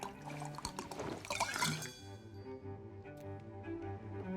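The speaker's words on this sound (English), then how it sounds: "let's pour you a glass" Wine glugs and trickles as it is poured into a glass in the card game Card Shark, a brief liquid splash up front over a steady backdrop of soft background music.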